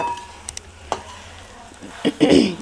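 Bitter gourd fried with chili sizzles softly in a pan as a utensil stirs and taps, with scattered clinks and scrapes and a louder stirring burst near the end.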